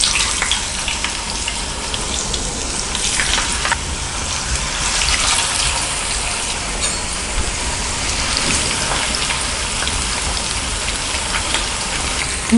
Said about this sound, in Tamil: நம்ம மீடியம் ஃப்ளேமில் வச்சுட்டு நல்லா ஃப்ரை பண்ணிக்கலாம்.